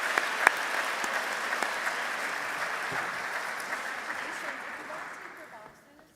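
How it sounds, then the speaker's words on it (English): An audience at an international conference opening ceremony gives a round of applause for the scenario writing winners, a steady broad patter of clapping that gradually fades away toward the end. "Let's give a round of applause to all of our scenario writers"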